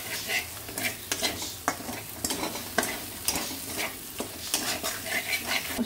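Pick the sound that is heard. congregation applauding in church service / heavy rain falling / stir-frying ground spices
stir-frying ground spices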